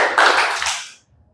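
A class clapping once in unison during an ice-breaking game, a single sharp group clap followed by a short fading tail and then quiet.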